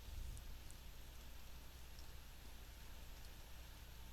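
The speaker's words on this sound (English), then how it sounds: "It's raining outside." Steady rain falling outside in the video game The Fruitless Flower, a constant soft hiss of drops on surfaces with a low rumble beneath, unbroken throughout and heard alone.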